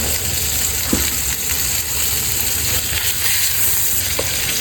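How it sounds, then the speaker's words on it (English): Chicken pieces sizzle steadily in a hot pan after being flipped skin side up, with a loud continuous frying hiss and a few light clicks. "we cooked skin side down about 5 minutes or so, and now we're gonna flip them over"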